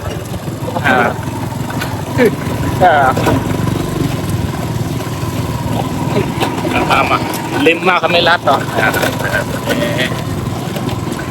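Motor engine of a tora-tora fishing boat heading out to sea in the Philippines for traditional bintol fishing, a steady droning hum running throughout beneath people talking nearby.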